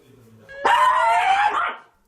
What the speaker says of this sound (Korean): 보호자 품에 안겨서도 으르렁대며 슬슬 시동 거는 녀석.